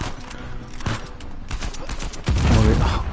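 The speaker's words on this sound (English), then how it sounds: "I already shot him in the head." Gunfire from the video game Uncharted 4, a rapid volley of shots that builds into a louder, denser burst toward the end, with no talking.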